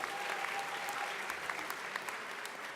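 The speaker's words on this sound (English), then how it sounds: "so give yourselves another round of applause." Convocation audience at a Baruch College ceremony applauding, a steady wash of many hands clapping throughout, fairly distant and even, with a faint voice briefly audible.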